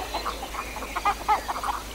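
Geese give a short burst of nasal honking and cackling calls, several overlapping at moderate distance over a steady low background hum, with no voices.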